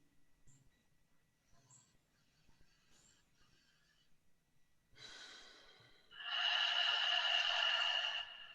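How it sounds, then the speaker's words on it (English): Deep, low belly breathing during a guided breathing exercise: a soft breath at about five seconds, then a loud, long airy exhale lasting about two seconds, close and alone. "Take 3 more rounds with this low, low, low, low belly breathing."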